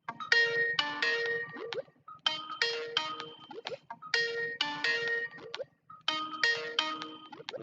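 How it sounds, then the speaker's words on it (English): A phone ringtone rings four times, each burst a quick bright chiming melody followed by a short pause, clear and fairly close with no talk over it. "Get my boy Stamina on the phone."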